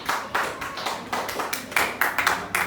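A church congregation claps in uneven bursts, several sharp rounds of hand claps swelling and fading, near and fairly loud.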